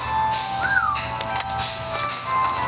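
A person whistles inside a Roblox Grow a Candy game session, a single faint rising-and-falling whistled note standing out briefly against busy game music and background noise.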